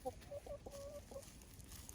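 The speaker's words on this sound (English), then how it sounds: "right now they being some good chickens" A few chickens cluck softly while grazing on grass outdoors, with short, faint clucks close together over a quiet background.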